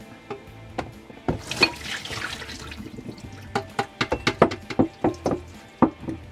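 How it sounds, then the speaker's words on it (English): Hot water splashes and pours off cooked green bean vermicelli, then drips and clatters in a run of sharp, irregular knocks close by. "So drain this hot water."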